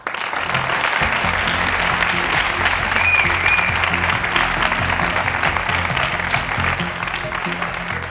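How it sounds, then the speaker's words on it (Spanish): An audience at an awards ceremony claps in a dense, sustained round of applause that holds at an even loudness for several seconds, with no talking over it. "Un aplauso para ella."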